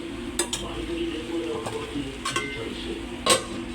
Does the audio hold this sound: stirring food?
yes